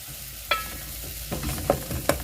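Paprika being stirred into an egg curry with tomatoes cooking in the pan: a few distinct spoon scrapes and taps against the pot over a low, steady sizzle, with no talking.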